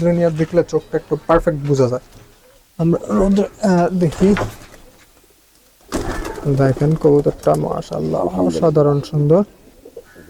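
Pigeons coo in a loft housing a pigeon collection. Loud, close bursts of throaty, rolling coos come in two long runs with a quiet pause between them.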